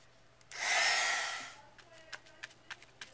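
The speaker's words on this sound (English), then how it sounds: "Or you can speed it up with a heat tool, which I am going to do." A handheld heat tool blows with a steady, breathy whoosh for about a second while drying embossing. Light clicks and taps follow once it switches off.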